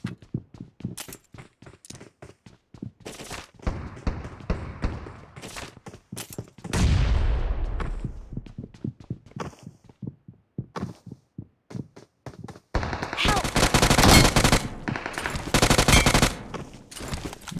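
Video game gunfire in a battle royale match: rapid bursts of close, loud shots in tight rhythmic clusters, with a dense sustained barrage near the middle and another heavy stretch of firing toward the end.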